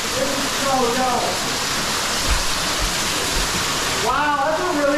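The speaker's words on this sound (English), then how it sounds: "Another little waterfall too." Forest waterfall, a loud continuous rushing roar of falling water heard up close, with people talking over it at the start and again near the end.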